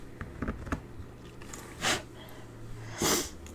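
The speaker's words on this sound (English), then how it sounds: "Oh, I've got the sniffles" A person sniffles twice, short breathy snorts through the nose around two and three seconds, after a few faint taps and quiet handling noises in an indoor craft setting.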